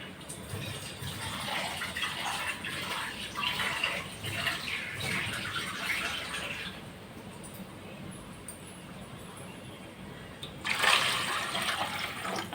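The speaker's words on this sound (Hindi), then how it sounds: "इसमें थोड़ा सा पानी डालेंगे" Water splashes and pours continuously into a dish of dahi vada with yogurt and chutney, with a brighter gush of liquid near the end.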